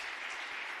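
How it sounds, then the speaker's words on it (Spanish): Applause during a church broadcast: a brief, dense patter of many hands clapping together, steady and moderately loud without speech. "Un aplauso al Señor"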